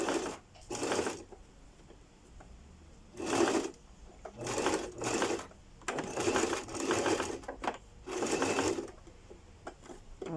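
Domestic sewing machine closing a bodice shoulder seam at a one-centimetre allowance, running in several short close bursts separated by brief pauses.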